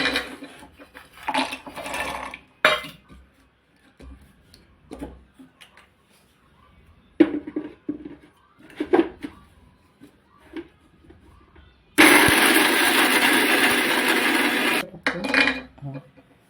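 A mixer grinder grinds roasted cashews for kaju katli in one loud, steady whir of about three seconds near the end, after quieter handling clatter and knocks.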